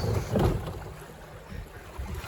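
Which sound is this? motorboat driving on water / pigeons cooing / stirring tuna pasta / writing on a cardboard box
motorboat driving on water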